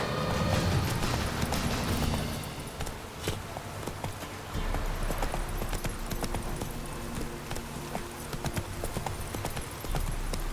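Roach the horse's hooves clop steadily along in The Witcher 3, a continuous rhythmic walking gait close by, with faint ambient noise around it.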